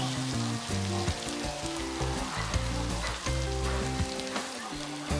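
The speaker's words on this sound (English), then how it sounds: "So after this, I will be adding now the beef." Beef hits sizzling rendang seasoning in a pan, producing loud, steady frying crackle close up, with a constant hiss and no talking.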